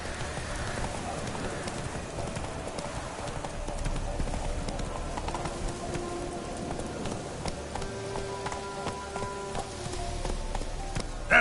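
A horse gallops in a video game, its hoofbeats a steady clip-clop running under a constant wash of rain-like ambient noise at moderate level throughout, with no talk.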